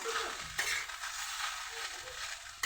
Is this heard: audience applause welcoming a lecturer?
no